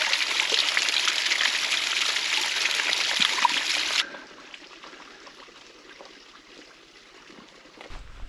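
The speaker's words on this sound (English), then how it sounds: "There's a bit of a spring down here, so I'm going to get some water." Spring water trickles and splashes steadily as it is collected outdoors in the Yorkshire Dales, loud and close for several seconds before dropping to a softer, quieter flow.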